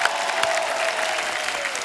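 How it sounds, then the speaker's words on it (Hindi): Studio audience applause on a television comedy show, a loud, dense, even burst of clapping from a large crowd that continues steadily throughout. "पहले मैं चाहूंगा जोरदार तालियां"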